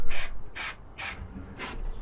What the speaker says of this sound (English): get a little bit of spray adhesive on that